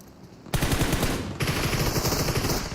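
Rapid bursts of Groza rifle fire in the PUBG Mobile game rattle out loud and close, a sustained automatic stream broken by a brief gap before resuming.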